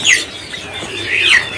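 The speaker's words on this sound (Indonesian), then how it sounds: "Silakan dipantau nih untuk burung dari trucuk yang udah pada rajin bunyi." Sooty-headed bulbuls singing loudly and close at a bird market, bright rising and falling whistled phrases with a short pause in the middle, no voices.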